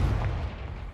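A Confringo blasting spell explodes in Hogwarts Legacy, a short, heavy, booming blast with a rumbling low end that quickly decays.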